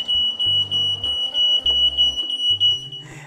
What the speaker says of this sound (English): Every time it gets too hot, the alarm just goes off.